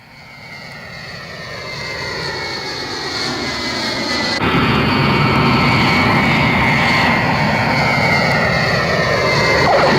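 An airplane comes in to land on a runway, its engine roar swelling steadily from moderate to loud and close with a whining tone that shifts pitch as it passes, no voices.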